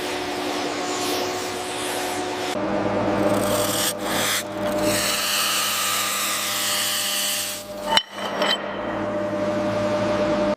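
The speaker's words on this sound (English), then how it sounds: "the process involves meticulously stripping away the rust, revealing the original 1941 steel underneath" Rust is stripped from the original 1941 steel of a KV-2 tank with a loud, continuous abrasive rasping and grinding, broken by brief pauses and a sharp scrape near the end.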